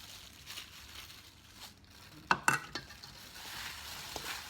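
Fermented beef for homestyle som wua being kneaded and mixed with garlic: quiet, steady squishing and rubbing, broken by a brief cluster of sharper clicks and slaps partway through.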